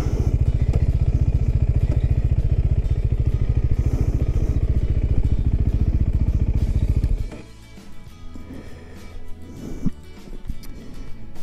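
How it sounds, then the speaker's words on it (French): A KTM 390 Adventure single-cylinder motorcycle idles loud and close with a steady, fast pulsing thrum for about seven seconds, then cuts off, leaving faint clatter and handling noises. "KTM 390 Adventure. Vraiment sympa comme petite bécane."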